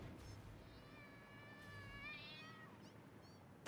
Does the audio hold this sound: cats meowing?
yes